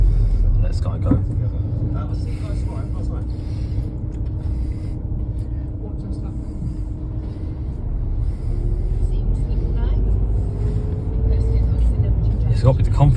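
A 2013 MINI One automatic drives at low speed around the block, its engine giving a steady low rumble with a faint rising whine, while people talk inside the car.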